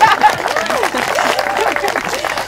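Wedding guests clapping at the start of a marriage ceremony, a brief burst of applause with a voice speaking over it.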